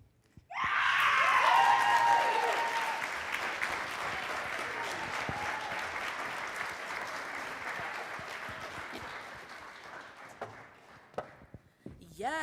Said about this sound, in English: please give another round of applause to Miss Taya